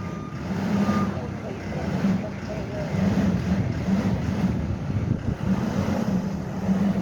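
A truck reverses at a construction site to move a dumpster, its reversing beeps repeating steadily over a loud low engine rumble and wind noise outdoors.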